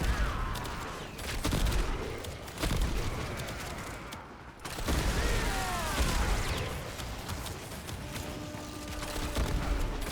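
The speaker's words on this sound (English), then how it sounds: "First one is a cluster munition bow, and I'm fond of its sound design." A cluster munition bow fires in the sci-fi shooter Warframe, loosing shots that burst into rapid clusters of explosions and booms, loud and dense with brief gaps, layered with game effects and a faint voice.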